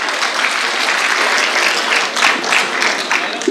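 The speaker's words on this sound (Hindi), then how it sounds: "जोरदार तालियों से उनका इस्तकबाल किया जाए।" At a mushaira poetry gathering, an audience bursts into loud, steady applause welcoming a visiting poet, a thick wash of clapping that holds for several seconds without voices over it.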